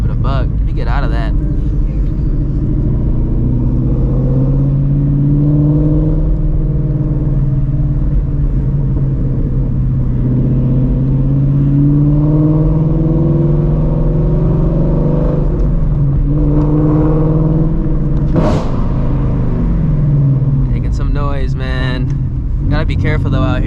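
A straight-piped Ford Shelby GT350 driving through city streets at night, heard from inside the car: a loud, continuous low exhaust rumble that rises and falls with throttle, plus a few sharper revving bursts near the end.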